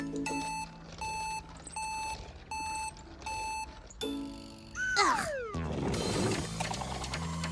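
A cartoon vehicle backs up with steady reversing beeps, five evenly spaced electronic tones, then a rising whirr and a clattering mechanical rush as it moves off.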